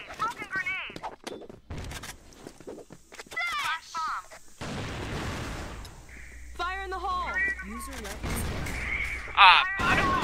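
Bursts of video game gunfire, short volleys of shots mixed with other game effects, while people talk over them throughout.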